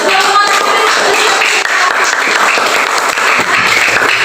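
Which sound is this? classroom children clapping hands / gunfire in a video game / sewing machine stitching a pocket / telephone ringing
classroom children clapping hands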